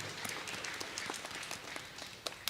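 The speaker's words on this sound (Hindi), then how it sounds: "हम सब तालियां बजाते हुए आप सबों को धन्यवाद देते हैं।" Congregation applauding in a church during a novena Mass at Lourd Mata Mandir, Nagpur: a steady patter of many hands clapping at moderate distance, continuous throughout with no voices over it.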